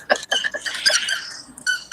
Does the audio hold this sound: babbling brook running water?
no